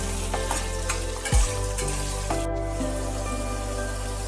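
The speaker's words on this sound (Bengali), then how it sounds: "আলু দিয়ে বেশ কিছুক্ষণ নাড়তে হবে। আলুটাকে ভাজা ভাজা করে নিতে হবে।" Cut potatoes added to hot oil with chilli and bay leaf sizzle steadily while being stirred, with a few scraping knocks and a brief clunk over a constant low hum, no talking.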